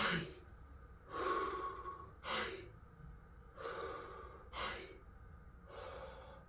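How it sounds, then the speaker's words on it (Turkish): Deep breaths drawn in and pushed out through the mouth in a breathing exercise, six slow airy rushes alternating between inhales and exhales at close range, fairly quiet, with no words. "Derince Hay diye nefes almak."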